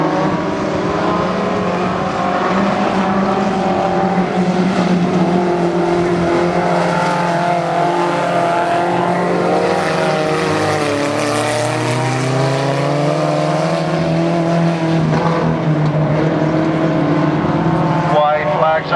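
Stock pony race cars racing at Barona Speedway, with engines roaring continuously and loudly, pitch rising and falling as cars pass under a race announcer's talk.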